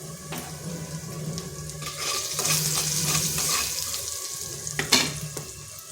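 Ivy gourd fries with chili, turmeric and salt in a pan, giving a continuous close sizzle with scraping stir strokes and a few sharper clinks of a spoon against the pan. No one speaks.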